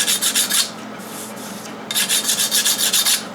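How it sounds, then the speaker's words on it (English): A file rasps across the corner of a steel fabrication piece in quick rhythmic strokes, a burst of scrapes, a short pause, then a faster run of close, crisp strokes. "So what I'm going to do is deburr it, or deburr it. Just getting the corner here."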